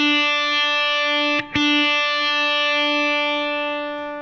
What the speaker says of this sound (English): I've got a healthy dose of distortion on here, and we're just sliding some power chords up.